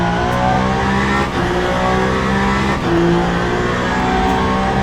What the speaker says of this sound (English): We are racing with the number 99 down the main straight.